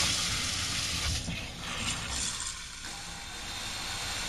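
A HotelSpa 7-setting, 5-inch shower head sprays water steadily from close by, a continuous hiss with only slight shifts in intensity and no voices.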